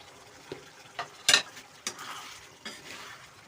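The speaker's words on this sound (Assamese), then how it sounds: "এতিয়া ইয়াতে দিম কণীকেইটা।" Eggs go into a simmering manimuni greens gravy, a quiet background sizzle broken by a handful of separate scrapes and clinks from a spoon against the pan, spaced about half a second apart.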